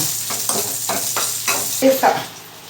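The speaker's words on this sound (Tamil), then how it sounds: "அது நான் வெங்காயம் வதக்கிட்டு வரேன், சரிங்களா" Onions sautéing in a pan for sambar, a steady sizzle with rhythmic stirring scrapes recurring about every half second, fairly close, plus a couple of brief sharper clinks near the end.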